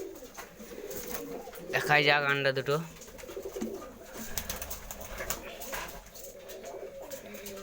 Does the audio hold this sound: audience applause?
no